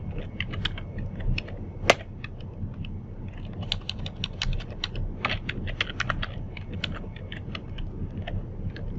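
Someone types a command in Git Bash on a computer keyboard, producing a continuous run of close, crisp key clicks in uneven bursts with one sharper keystroke early on and no talking.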